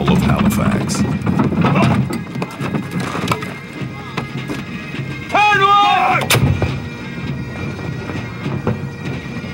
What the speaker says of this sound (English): the daily firing of the noonday gun marks time for all of Halifax.